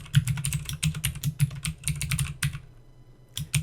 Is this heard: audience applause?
no